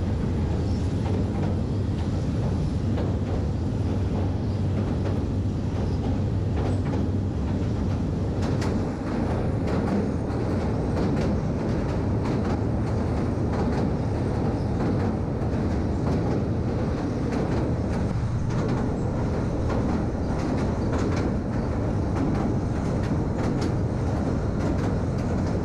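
Jayantika Express train crossing the Bhairab railway bridge over the Meghna river, a steady rumbling roar of wheels and carriages that runs unbroken throughout, with faint rattling ticks and no talking.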